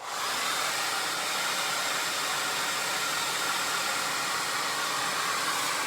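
Hair dryer blowing on newly established sisterlocks, a loud steady whooshing roar that runs unbroken the whole time, close to the listener.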